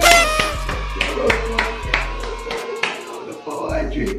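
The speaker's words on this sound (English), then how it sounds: "Clap it up, clap it up, clap it up" Hand clapping from a small group at an indoor livestream, a run of sharp claps with some irregular gaps, mixed with a steady low hum and background chatter.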